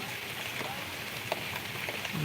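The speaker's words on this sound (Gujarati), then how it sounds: "આજે ભાવનગર આજુબાજુના ગામડાઓમાં તેમજ મોટાભાગના વિસ્તારમાં વરસાદ વરસી જ રહ્યો છે" Heavy rain falls around Bhavnagar, Gujarat, a steady, fairly faint hiss of drops on surfaces with a few brief louder taps scattered through.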